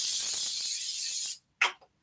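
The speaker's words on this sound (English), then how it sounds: "I'm going to spray this again because I don't want my cookies to stick." A cooking spray can hisses onto a baking pan for cookies, a steady broadband spray lasting over a second, then a short second burst, close and fairly loud.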